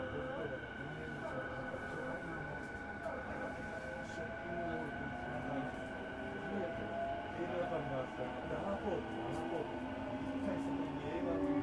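JR Yokohama Line E233 series commuter train running between Kozukue and Shin-Yokohama, a steady interior rumble of wheels on rail with rising and falling motor whine throughout, heard from inside the carriage.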